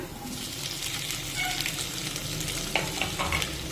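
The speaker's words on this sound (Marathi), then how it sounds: "या ज्या आपण बटाट्याच्या फोडी करून घेतलेल्या आहेत त्या फोडी या मिरचीमध्ये टाकूया" Potato pieces drop into a pan of sautéed green chilies and sizzle steadily, with a soft gentle frying hiss and a few light scraping clicks near the end, close and alone.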